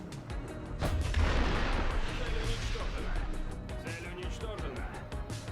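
Fast missiles firing in the video game War Thunder, a loud booming launch followed by a dense rushing roar and rumble, with quick popping bursts and someone talking over it.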